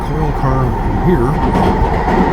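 A railway train passes close by in a rail yard near New Westminster, with a loud, steady rumble and squealing, shifting wheel tones throughout, and a voice talks over it.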